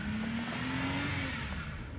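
An Audi S5 car engine revs steadily during snow drifting, a sustained droning whine reminiscent of a leaf blower, fairly loud and continuous with no talk.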